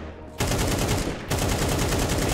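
Rapid automatic gunfire in Counter-Strike, fired while the player moves: a close, loud burst of fast repeated shots, briefly broken and then resumed for a second string.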